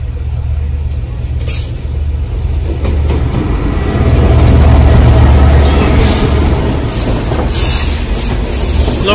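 The Jamuna Express rolls past the Bottoli rail gate with a loud, close rumble of wheels and carriages, rising in the middle, with rhythmic clatter and brief hissing squeals.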